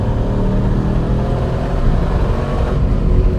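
An LS-swapped Porsche 944 accelerates with a loud, steady low engine rumble and whir that swells slightly near the end, heard close and continuous without speech.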